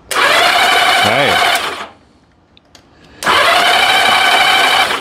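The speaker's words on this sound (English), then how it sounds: "Okay, it cranks." A vintage barn-find Honda Goldwing motorcycle engine cranks over on a weak battery with the spark plugs out, a loud whirring starter spin that stops, pauses briefly, then cranks again steadily.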